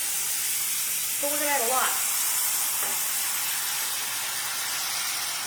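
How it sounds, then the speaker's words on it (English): Wine hitting a hot pan of oil and turkey meat for stroganoff gives a loud, steady broadband sizzle and steam hiss that carries through the whole stretch, with a brief spoken phrase over it. "Now you heard all that sizzle and you saw the steam come."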